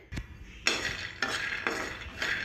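Peanuts roasting in a pan are stirred with a utensil, giving several distinct scraping and clattering strokes with a light rattle of nuts against metal, close and clear with no talk.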